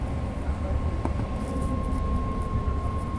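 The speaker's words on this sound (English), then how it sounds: "You can kind of see that the train is jerking a little bit" A BART train rolling through Ashby station with a steady low rumble and wheel-on-rail noise, a faint sustained tone riding above it and a brief clunk near the middle as the car jerks slightly.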